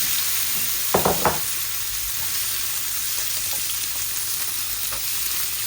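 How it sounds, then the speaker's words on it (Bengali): Eggs and potatoes fry in a pan for egg bhuna, a constant bright sizzle with a quick cluster of utensil clatters near the start. "আমি ডিম আর আলুগুলা ভেজে নিচ্ছি"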